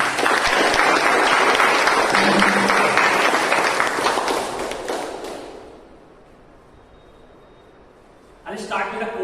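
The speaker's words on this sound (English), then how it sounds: "Let's give a round of applause to our evaluator number 3" Audience applause at a Toastmasters club meeting, a dense burst of many hands clapping loudly for several seconds, fading out, then a short resumption near the end.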